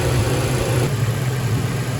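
A truck engine idles steadily and close by, a continuous low rumble with no voices over it.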